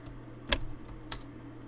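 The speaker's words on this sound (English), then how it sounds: "and I'm just going to type in redemption" Keys tapped on a computer keyboard to enter a single word, two distinct close clicks with a soft hum underneath and no voice.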